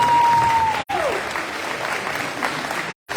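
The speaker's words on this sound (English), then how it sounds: "Let's give the defensive staff a great round of applause." A banquet audience at a high school athletic event claps steadily for the defensive staff, a dense close wash of applause that briefly drops out twice before resuming.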